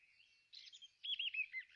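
A little white bird sings in a fairy-tale scene, a run of quiet, high chirping and twittering phrases that grows busier toward the end, heard alone with no talk.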